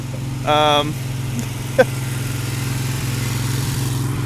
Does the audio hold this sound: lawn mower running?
yes